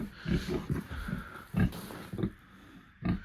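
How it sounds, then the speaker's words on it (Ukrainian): Two pigs grunt and snuffle close by in a pen, a steady run of low, rhythmic grunts with a few louder snorts, with no talking. "Є в мене дві свинки, зараз якраз прийшов, буду очищати, годувати."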